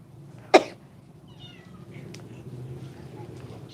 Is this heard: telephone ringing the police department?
no